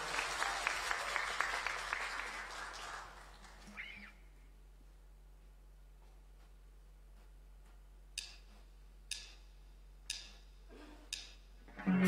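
An audience at a Myanmar singing competition claps along in a quick, steady rhythm that fades after a few seconds, followed by a quiet stretch and a handful of spaced, isolated claps.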